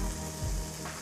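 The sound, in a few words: chopped chicken added to sizzling masala in pan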